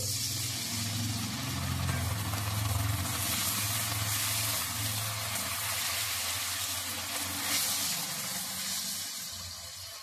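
Masala for egg tarka sizzles in a pan as a little water is added, giving a loud, continuous hissing fry with a bubbling rush, close up and without speech.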